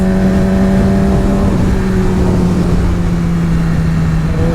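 A Porsche GT3 engine drones steadily and loudly throughout, its pitch holding fairly even with slight rises, close by and continuous with no voices.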